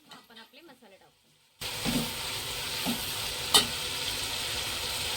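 After a brief spoken phrase, prawns hit a hot pan and sizzle loudly and steadily, with a few spatula scrapes and a sharp clink against the pan.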